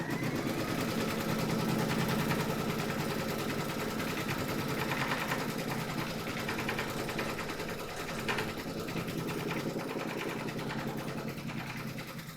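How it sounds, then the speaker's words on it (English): Embroidery machine stitching a placement outline in a hoop, a rapid, steady mechanical chatter of needle strokes running continuously at close range, with no talking. "Pop your hoop into your machine and stitch round number 1"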